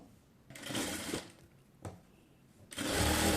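An electric sewing machine stitches a little girl's half pant in three separate runs: a long whirring burst, a short quick stitch, then another sustained run, with quiet pauses between.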